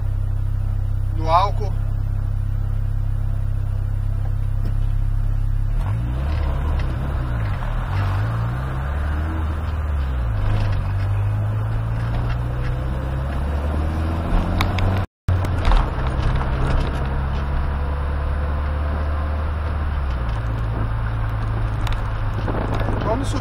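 A turbocharged car running on alcohol fuel revs steadily for about twenty seconds, its engine drone rising and falling in several swells, loud and near, with talk over it.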